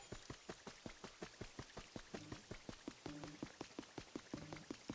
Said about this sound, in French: Oh, il pleut! Il pleut, il mouille.